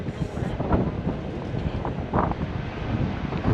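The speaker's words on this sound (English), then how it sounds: "It is really windy out here today." Strong wind buffets outdoors in a steady, rough rush with gusty swells, loud and close, with no one talking.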